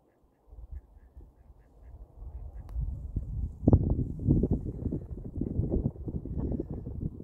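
Ducklings out on a snowy morning walk quack in a busy, overlapping patter that builds after a quiet start, close by and fairly loud, with scattered peeps and rustling among them.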